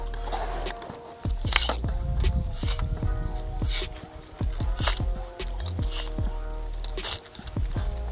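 A hand pump forces air into a plastic water bottle rocket, making a series of rhythmic bursts of hiss and bubbling, about one per second, up close and loud.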